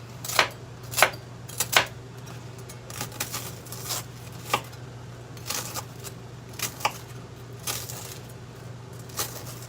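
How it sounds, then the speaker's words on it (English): Onions roughly chopped with a knife for French onion soup, about a dozen sharp irregular knocks on a cutting board over a steady low hum, near and fairly loud. "I'm just going to cut these rough chop"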